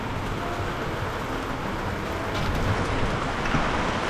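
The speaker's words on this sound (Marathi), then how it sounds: "गारा पडत आहेत वरती, म्हणून ते मोठे आवाज येत आहेत." Hail falls in heavy unseasonal rain as the wind picks up: a continuous broadband wash of pelting noise that swells slightly louder in its second half.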